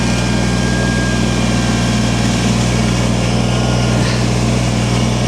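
A tractor engine runs steadily while pushing snow during a snowstorm, its loud, even drone holding throughout with no talk over it.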